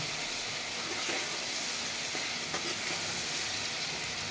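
Steady sizzling of eggplant frying in a pan with olives and lemon for pickle, with faint scraping and stirring clicks now and then; no voices.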